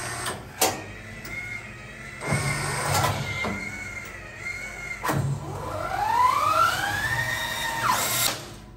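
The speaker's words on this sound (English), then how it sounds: "So now it fed the accumulator and then fed it through the arch." Eagle S600 strapping machine feeding plastic strap through its accumulator and around the arch, a close mechanical whirring with rising motor sweeps and sharp clicks, running alone without talk.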